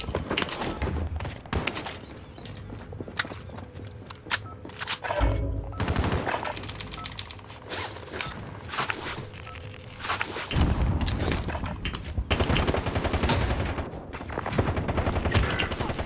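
Video game firefight with bursts of rapid automatic gunfire and single shots, footsteps and thuds in between, dense and continuous with no voices.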